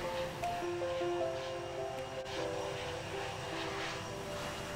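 Propeller and engine drone from an aircraft in the Infinite Flight simulator game, throttle pushed to full power for takeoff, a steady loud roar with sustained tonal engine hum and no voices.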